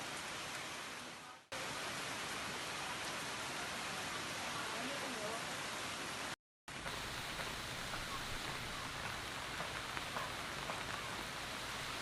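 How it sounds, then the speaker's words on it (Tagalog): Heavy rain pours steadily and loudly as a dense, continuous hiss, broken by two brief silent gaps. "ang lakas ng ulan"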